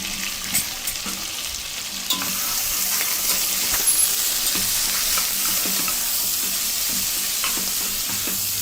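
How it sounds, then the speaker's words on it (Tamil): Onion frying in a home kitchen pan for a simple South Indian morning meal, a bright steady sizzle that swells after a couple of seconds, with occasional soft utensil taps over the crackle. "நல்லா வதங்கிட்டு வெங்காயம்"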